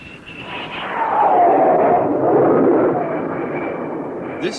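An F-4B Phantom II jet fighter launching off the catapult of the aircraft carrier USS Forrestal: a broad, loud jet roar swells within the first second, holds steady and powerful, then eases slightly as it recedes.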